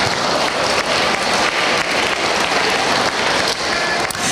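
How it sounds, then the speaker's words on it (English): A crowd at a science fair awards ceremony applauds with dense, steady clapping that holds at an even level throughout, without cheering or talk. "Give them a round of applause"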